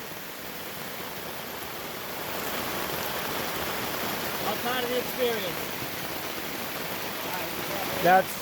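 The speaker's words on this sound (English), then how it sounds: "We're camping in the pouring rain." Pouring rain hisses steadily over a campsite as a broad, even wash that holds its level throughout, with a voice briefly speaking near the end.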